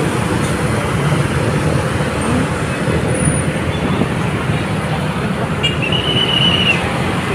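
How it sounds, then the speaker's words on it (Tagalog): Heavy road traffic in Bigotan, a dense, steady roar of engines and tires rumbling close by without a break, with a brief higher tone rising near the end. "So, sobrang traffic, guys."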